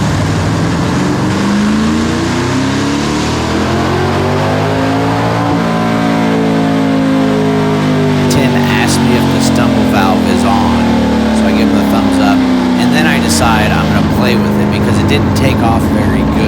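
A car engine on a dyno at a dyno day revs hard, the throttle stabbed from about 2,000 RPM up toward 7,000 RPM, a loud continuous roar that sweeps in pitch and holds close and steady with no talk over it.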